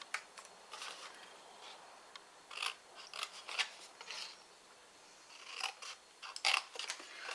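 Scissors cutting away sections of a cardboard wrap-around box, heard as a series of quiet snipping and rasping cuts in short bursts separated by pauses, close and faint in a quiet room.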